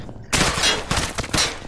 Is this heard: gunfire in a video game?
yes